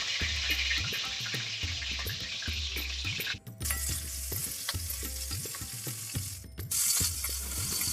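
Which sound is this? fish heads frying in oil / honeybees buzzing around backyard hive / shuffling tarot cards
fish heads frying in oil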